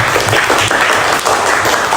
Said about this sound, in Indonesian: Ulangi dulu tepuk tangannya